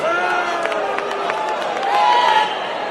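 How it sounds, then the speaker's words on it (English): A darts crowd at the 2011 PDC World Championship erupts in dense, sustained cheering and shouting after Mark Walsh hits double 18 to finish a leg. The roar stays loud throughout and swells near the end. "Spectacular crowd."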